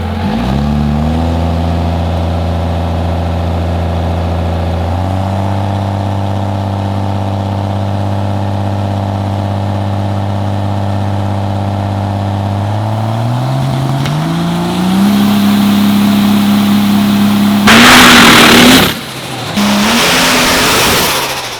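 A diesel truck at a Beech Bend diesel drag event holds a loud, droning rev, climbs in pitch as it pulls, then erupts into a harsh burst of tire roar and noise before settling again.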